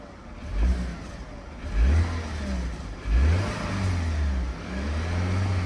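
A 2012 BMW 5 Series with a 2.0 turbo four-cylinder runs with a rattly sound, revved three times in quick rising surges between a rough idle, heard up close with no voices.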